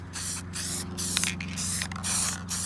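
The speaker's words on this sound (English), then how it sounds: "Just spray it on." Bursts of aerosol primer spray hiss in short pulses, a few seconds of rapid spraying with brief gaps, over a steady low electrical hum, while coating a Subaru STI rear diffuser.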